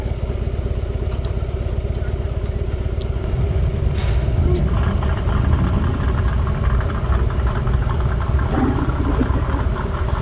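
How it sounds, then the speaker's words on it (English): Hot rod engines idling and cranking at a car show with flag drag races, a loud, close rumble that grows heavier partway through. "you can hear the sound of the hot rod engines cranking up"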